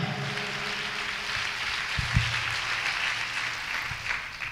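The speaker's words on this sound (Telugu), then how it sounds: "చప్పట్లు కొట్టి దేవుడు మహింపరుద్దాం గట్టిగా." A church congregation at a harvest festival service claps hands steadily together in praise, a dense, even wash of applause with a few sharper slaps.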